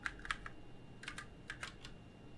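Short bursts of typing on a computer keyboard, a few quick keystroke clusters separated by pauses, close and fairly quiet over a low background hum.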